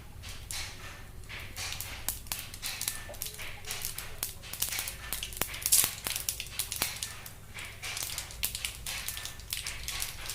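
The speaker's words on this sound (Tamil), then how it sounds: "நல்லா ஹீட் ஆச்சுன்னா வந்து பார்த்திங்கன்னா கடுகு வெடிக்கும்." Rapid, irregular crackling and popping of mustard seeds spluttering in hot oil with dal while making rava upma, fairly close, with a steady low hum underneath and no talking.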